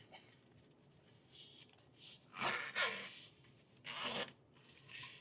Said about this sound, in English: And then this will just zip up on the bottom.